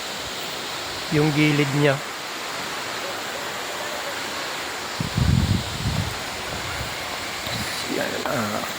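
Kiray Falls in Pangasinan pours as a steady broadband rush of falling water that fills the whole scene, with people talking briefly over it.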